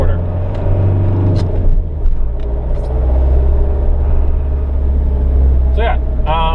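A 2000 Hino Dutro non-turbo 4.6 cargo van pulls away in second gear with a steady, deep engine rumble heard from inside the cab, while a person talks over it.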